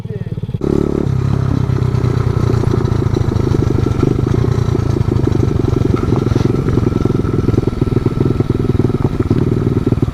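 Pit bike engine with a 150 fitted runs loud and close, a steady rattling idle with rapid pulsing firing throughout, with no clear talk over it.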